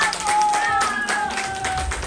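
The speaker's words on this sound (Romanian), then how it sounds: "Haideți să-i aplaudăm!" People clap at a birthday celebration, a short burst of uneven, close handclaps with a faint tone or voice lingering underneath.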